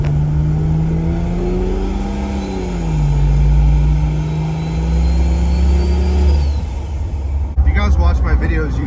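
Jeep Cherokee XJ engine with an AW4 automatic transmission revs steadily, its pitch dipping as the gearbox shifts, then settling before a rougher burst of noise near the end.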